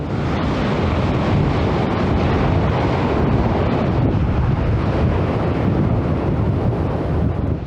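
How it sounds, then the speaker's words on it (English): Strong wind on a Texas beach during a winter cold front blasts the microphone with a constant heavy roar, mixed with surf, and no voices. "so it's windy again"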